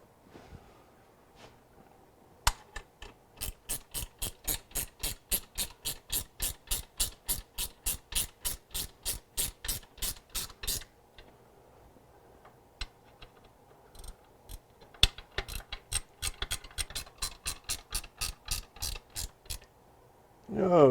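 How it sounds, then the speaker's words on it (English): A ratchet wrench clicks in fast, even bursts while tightening bolts during a supercharger install on a 1996–97 4.6L Ford Thunderbird, two long runs of sharp ticks separated by a brief pause, close and clear. "Let me get my wrench."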